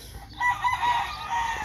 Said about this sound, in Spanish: Gallo hermoso.